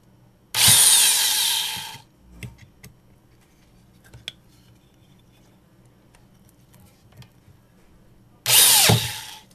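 Two loud, close bursts of a corded power drill whirring as it drives screws, each about a second long, separated by quiet with faint clicks and handling noises.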